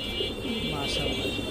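A domestic pigeon offered for sale gives a low, soft, wavering coo beneath someone talking nearby.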